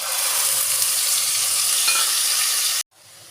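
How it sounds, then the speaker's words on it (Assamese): Onion, ginger and garlic paste frying in oil for a mustard fish curry, a loud continuous sizzle with stirring scrapes that cuts off abruptly near the end, leaving quiet. "পিঁয়াজৰ পেষ্টটো মই এক মিনিটমান সময় এইদৰে লৰাই লৈছোঁ।"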